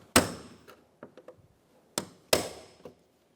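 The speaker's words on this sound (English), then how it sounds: "use a punch or a screwdriver and pop all of the rivets through." Rivets on the front lower grille of a 2012-2020 Chevrolet Sonic are punched out with sharp metallic hits, three loud close strikes mixed with a scatter of smaller taps and rattles.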